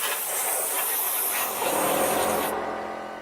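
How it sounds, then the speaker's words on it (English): Compressed air from a compressor blows excess powder out of a mold for casting whitetail deer antlers, giving a loud, close, continuous hiss that cuts off sharply after about two and a half seconds. "That's why I use my compressor and I'm going to blow the excess powder out."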